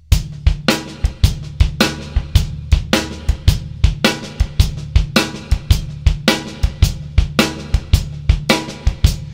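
Drum kit playing a busy blues shuffle variation, the bass drum kicking frequently under swung cymbal and snare hits, a steady loud groove with no voices.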